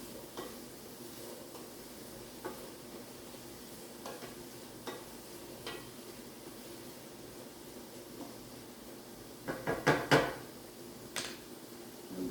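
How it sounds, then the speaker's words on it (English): Chopped onion and vegetables for a turkey pot pie being stirred in a pot, a soft continuous sizzle with faint scraping, then a cluster of louder spoon-on-pot clatters near the end. "Alright, give it a good stir."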